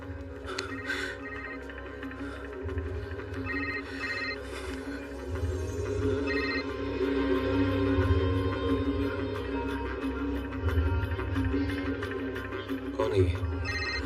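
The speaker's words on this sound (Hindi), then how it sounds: "किसका फोन आ रहा है?" A telephone rings repeatedly in short bursts late at night in a Hindi film scene while people talk tensely over it, the ringing sitting clearly above a low background hum.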